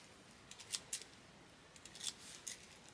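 Thrifted craft scissors, somewhat dull, snip through material in a few quiet, sharp cuts with short pauses between them, close by and faint.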